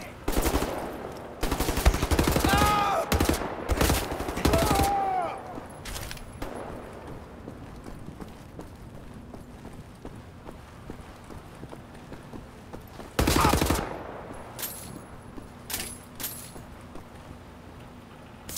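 Gunfire in the first-person shooter Wolfenstein: The New Order rings out as dense, loud bursts of rapid shots in the first five seconds, followed by a quieter stretch and another sharp burst around thirteen seconds, over a low game hum.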